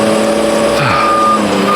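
A garbage truck backing up sounds steady, repeating reversing beeps over a loud, rumbling diesel engine idle.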